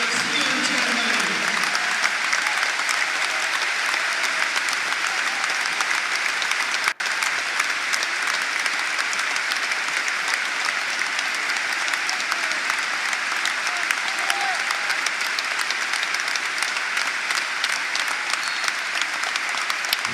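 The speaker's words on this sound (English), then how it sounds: "So applause rings around Ashton Gate" Sustained applause from Bristol City football fans fills Ashton Gate stadium in memory of head coach Liam Manning's son, a steady dense crowd wash running unbroken throughout with one brief sharp click partway.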